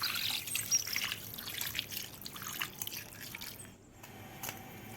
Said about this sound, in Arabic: وهزود حبة مية كمان.